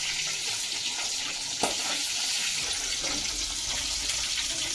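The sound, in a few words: fish frying and spattering in hot oil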